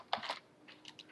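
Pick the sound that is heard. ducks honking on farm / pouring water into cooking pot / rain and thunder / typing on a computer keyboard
typing on a computer keyboard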